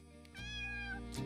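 A single drawn-out cat meow from a video game sounds close and clear, rising and then falling, with no talk over it.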